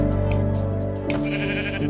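Sheep bleating loudly and close over a constant low hum, a drawn-out bleat with a second one starting near the end.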